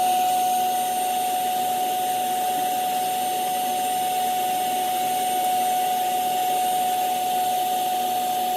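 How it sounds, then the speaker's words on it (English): A vacuum cleaner runs continuously with a steady whine and airy roar, close by and loud, as it sucks dust and gunk from inside a 1973 Zenith Chromacolor television, with no talking. "while I have the vacuum cleaner, I'm gonna turn it and I'm gonna just clean this gunk out of here."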